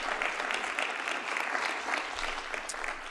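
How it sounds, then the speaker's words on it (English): A community forum audience for West Ward council candidates claps steadily and densely throughout, a sustained round of applause filling the room with no voices rising above it. "give yourselves a round of applause"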